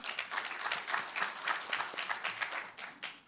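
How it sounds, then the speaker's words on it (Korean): An audience at a forum claps for a presenter, a short burst of applause with distinct, fairly close hand claps in an uneven rhythm. "발표 박수 부탁드립니다."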